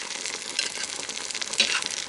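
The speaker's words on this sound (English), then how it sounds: "Hear it sizzle." Corn casserole in a slow cooker sizzling softly up close, a steady crackly hiss with small bubbling pops throughout and no voices.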